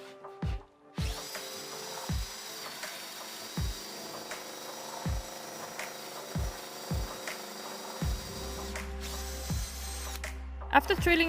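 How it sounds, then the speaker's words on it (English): A power drill bores holes through clamped wooden furniture rails, its motor whining steadily for several seconds while a series of short, regular knocks and bursts punctuate the run, close and clear. "I used a block to help me clamp the pieces together for drilling."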